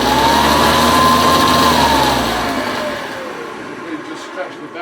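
A 1980s US-market 110v Hoover Convertible U4173 upright vacuum cleaner with a freshly stretched belt runs loud and close, its motor whine then dropping in pitch and fading as it winds down.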